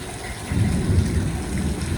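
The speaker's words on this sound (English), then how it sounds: "We got some crazy storms." A heavy thunderstorm with pouring rain drumming on surfaces, a deep rumble of thunder swelling midway and lingering under the dense, loud rainfall.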